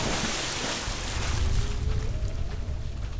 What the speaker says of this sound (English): Oh, there's like weird ocean noises now too.